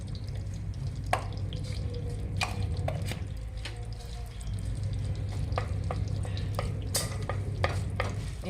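Desi ghee heating in a hot frying pan while a spoon stirs and scrapes, giving a steady close sizzle with scattered sharp clinks and taps throughout, no voices.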